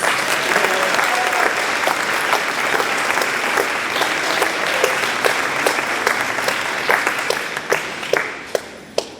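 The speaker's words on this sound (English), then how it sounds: "Let's give our first group a big round of applause." An audience applauds a group that has just performed, with dense, steady clapping filling the room for several seconds before it thins out into a few scattered final claps.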